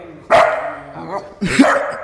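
A dog barks sharply about three times at close range, with brief pauses between the barks, as a cat hisses nearby.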